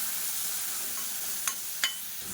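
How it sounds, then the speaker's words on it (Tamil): Crushed green chili, garlic and small onions for kulambu are sautéed over a medium flame. A steady, bright frying hiss runs throughout, broken by two quick spatula scrapes near the end, and no one speaks. "மீடியமான ஃப்ளேமில் எல்லாத்தையும் நல்லா வதக்கிக்கலாம்"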